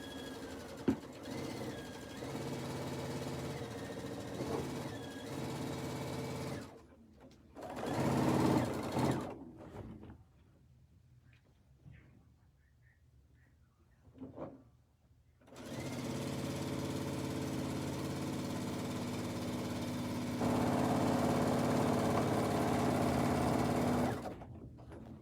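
A sewing machine stitches at high speed in two long, steady whirring runs, separated by a quieter pause with a few brief mechanical noises; no voices interrupt.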